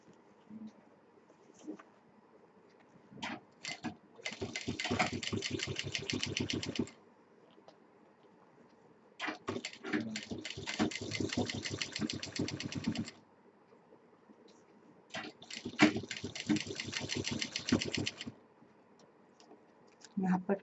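A sewing machine stitches piping onto a potli bag in three separate bursts of rapid, even mechanical chatter lasting a few seconds each, with quiet pauses and faint handling in between.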